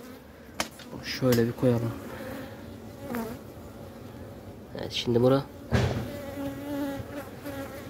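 Hornets and bees buzz around sugared honey set out at a beehive, a persistent insect drone running beneath someone speaking Turkish, with a few knocks and handling noises.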